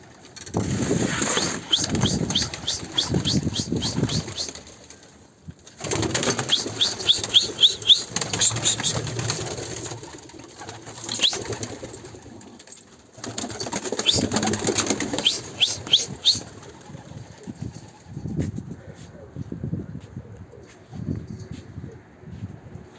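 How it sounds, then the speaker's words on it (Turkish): Pigeons take off from a coop in repeated bursts of rapid, clattering wingbeats, loud and close, with quieter gaps between flurries and softer flapping toward the end. "Kuşlarımızı kaldıracağız. Uçuracağız."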